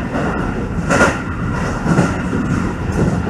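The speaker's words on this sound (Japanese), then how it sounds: "列車はね、もう間もなくね、府中駅にね、到着いたします" A Keio 9000 series train runs on the rails as it nears Fuchu station, giving a steady rolling rumble with faint rhythmic clatter and soft swells, heard from inside the car.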